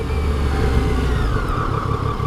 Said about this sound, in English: I like the sound of Yamaha bikes, man